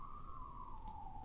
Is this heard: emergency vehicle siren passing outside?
yes